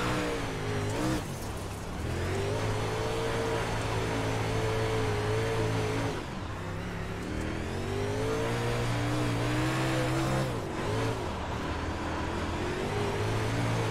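Dirt race car engine in the iRacing sim at Lincoln track, revving steadily and loudly with rising and falling pitch as the car slides through corners, a continuous close engine roar with brief lifts around shifts.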